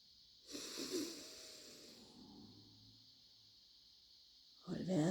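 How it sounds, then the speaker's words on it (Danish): A slow breath out through the mouth during a guided breathing exercise: a soft, close, breathy exhale lasting a couple of seconds, fading into quiet before a voice starts at the end. "Og pust så ud igennem munden."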